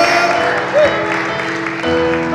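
Congregation applause during a church worship service, a steady wash of clapping from many people with music tones running underneath, fairly loud throughout.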